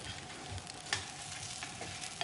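Food fries in oil in a kitchen pan, a steady close crackling sizzle that runs throughout, with a few brief sharper pops and no voices.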